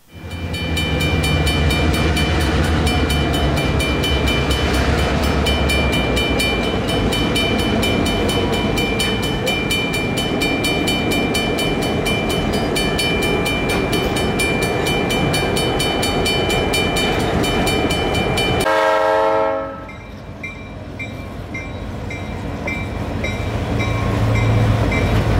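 EMD diesel locomotive train passing on the Reading and Northern railroad, a loud, steady roar of engine and rolling wheels with tonal horn-like drone, cutting off abruptly and leaving quieter rumble behind.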